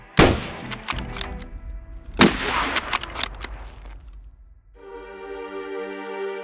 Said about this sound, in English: It is an extremely loud rifle and one of the loudest smaller weapons in existence.